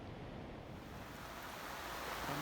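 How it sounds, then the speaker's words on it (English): Heavy rain pours down beside a fishing pond after a day of drizzle, a dense, steady hiss that swells slightly louder toward the end, with no voices. "Absolutely pouring down now. It's been drizzling most of the day, but it's really really coming down now."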